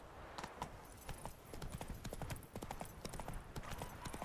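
Horse hooves clip-clopping steadily on the ground in the video game The Witcher 3: Wild Hunt, Hearts of Stone expansion, a close, continuous trotting rhythm throughout.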